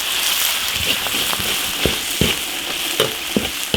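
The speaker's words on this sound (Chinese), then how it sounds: "小火慢慢煸炒" Beef stir-fried slowly over low heat in a wok, with a steady close sizzle broken by scattered sharp scraping clicks of a spatula against the pan.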